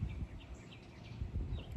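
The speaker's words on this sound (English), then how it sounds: "Hear the birds chirping" Small birds in a backyard chirp faintly in scattered short calls over a low, steady outdoor rumble of breeze.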